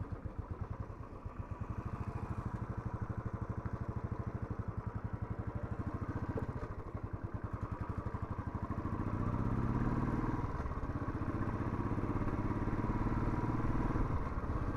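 A Royal Enfield Classic 350 motorcycle engine runs steadily close by, its low chugging rumble rising in pitch as the bike speeds up partway through.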